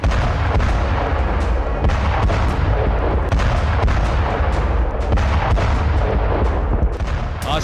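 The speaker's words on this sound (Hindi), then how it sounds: "आर्टिलरी से गोलाबारी हो रही है।" Artillery shelling in a war zone, a rapid barrage of loud booms and sharp reports in quick succession over a continuous roar of battle, with no voices heard.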